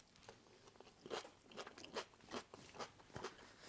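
Quiet, close crunching and chewing while tasting food seasoned with mustard, salt and pepper, a series of soft irregular crunches repeating through the moment.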